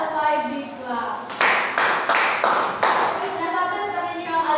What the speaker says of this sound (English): let's give Giselle and Hazel a 5 big clap